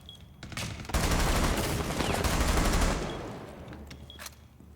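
Rapid, loud gunfire in the tactical shooter Rainbow Six Siege: a dense burst of automatic shots lasting about two seconds, preceded by a few single shots and followed by scattered faint shots.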